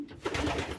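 Pigeons coo in a low, continuous murmur close by, a soft throaty burble from birds kept in a backyard loft with no talking.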